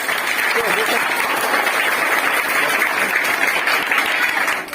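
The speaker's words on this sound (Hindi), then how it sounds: "ताली बजाएं बच्चों।" Sustained applause from a group of children clapping together, dense and even throughout, with some voices mixed in.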